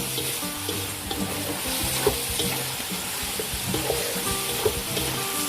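Ground pork and sliced hotdog seasoned with rock salt sizzle steadily in a pan, with frequent scraping and clacking from a spatula as they are stirred, close and without talk.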